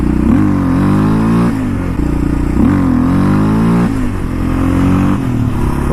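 Yamaha Raptor 700 quad revving hard for a wheelie, its engine climbing and dropping in repeated loud pulls with clear rising harmonics, close and continuous with no talk.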